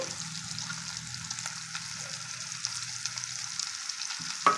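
Bitter gourd pieces and sliced onions sizzle and fry steadily in a pan for a fry dish, a continuous close crackle with faint stirring scrapes and a brief clatter near the end.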